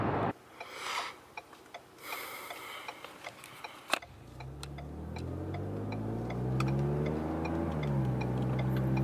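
Ticking and faint clicks inside a Ford Fusion Sport with an MRT V2 exhaust give way to a growing exhaust roar as the car accelerates hard, the engine note climbing steadily.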